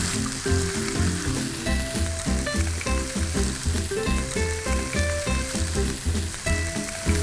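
Onions, garlic and carrots sizzle steadily in a pan with browning pork belly, a continuous frying hiss running under louder rhythmic background music for the whole stretch.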